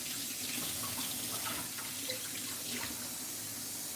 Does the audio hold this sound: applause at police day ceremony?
no